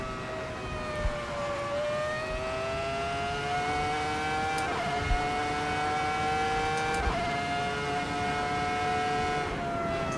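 Race car engines from the Assetto Corsa racing game screaming at high revs, several cars close together with rising and falling pitch and gear shifts, loud and continuous.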